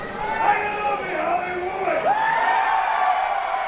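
A wrestling crowd at the Winter Blast event in an Extreme Rules match cheers and whoops steadily, loud and close, with a voice talking over the noise.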